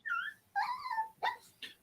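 A dog whimpers and whines in several high, wavering cries, four short bursts separated by brief pauses, fairly close and clear, with no talking over it.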